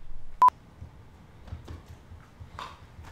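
A telephone being dialed gives a short, sharp double tone burst near the start, followed by faint scattered clicks and knocks over a low steady hum.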